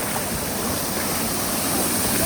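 Rainwater rushing like a waterfall into a storm drain on a rainy Florida afternoon, a loud, continuous broadband roar with no break.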